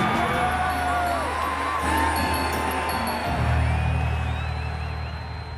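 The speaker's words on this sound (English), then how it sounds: "the people cheer at the sight of the life-giving god" Crowd at an ancient Egyptian festival cheering, with scattered whoops and rising voices over a low steady hum, moderately loud and spread out, swelling midway then fading slightly.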